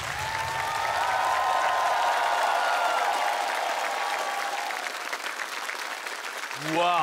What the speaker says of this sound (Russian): Я думаю, что должны прозвучать аплодисменты.